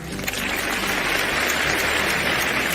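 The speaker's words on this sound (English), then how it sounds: "Applause tracks when the hands you hear are in the right hands." Canned applause sound effect: a steady, dense wash of many hands clapping at once, fairly loud and unbroken for the whole stretch with no voices.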